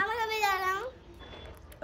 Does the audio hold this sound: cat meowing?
yes